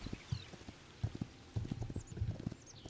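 Horse hooves clip-clop at an easy, steady gait in the Hytale video game, soft and fairly close, with faint bird chirps in the background.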